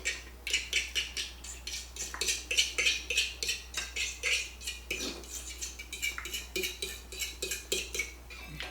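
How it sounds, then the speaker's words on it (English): Fork or whisk beating egg and milk in a dish, a quick run of close, rhythmic metallic clicks and scrapes against the bowl, steady throughout with no voices. "add just a little bit of milk to the egg. And I'm not going to add much. And then mix that up real good"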